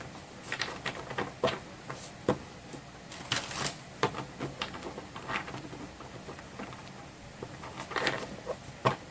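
Tarot cards being shuffled close by, a run of quick irregular flicks and soft slaps with brief pauses between bursts.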